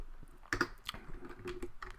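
Keys clicking on a computer keyboard in irregular short bursts, with a few louder taps mixed with lighter ones, heard close up and alone in a quiet room.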